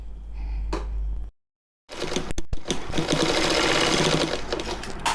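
A sewing machine stitches turban cap fabric with elastic, giving a fast, close mechanical whir. A short run stops, a brief silence follows, then a few clicks and a longer steady burst of stitching.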